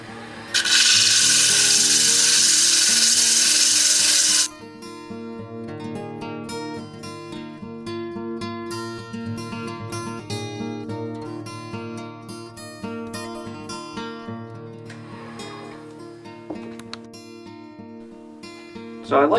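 A power sanding tool works a piece of firewood being shaped into a cup, giving a loud, steady abrasive whir for about four seconds before stopping, then quieter rubbing and scraping against the wood with music-like tonal lines underneath.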